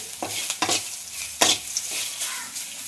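Carrots and beans stir-fry in a pan, a continuous sizzle broken by several sharp stirring scrapes close by.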